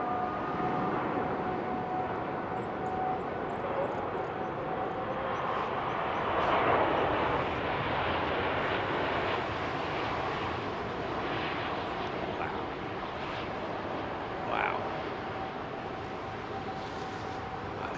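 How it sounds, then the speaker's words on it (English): A British Airways Boeing 787-10 passes through fog at Heathrow, its jet engines making a broad, sustained roar that swells and eases over eighteen seconds while a dog yaps faintly in the distance. "These aircraft cutting through the fog, man."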